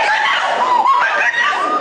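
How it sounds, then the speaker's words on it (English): A woman screams in shock while watching the South Tower attack of September 11, 2001 unfold live, a loud, shrill, wavering cry that lasts nearly two seconds. "I'm sorry I screamed."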